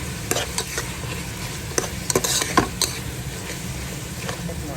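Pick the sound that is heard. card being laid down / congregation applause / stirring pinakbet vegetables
stirring pinakbet vegetables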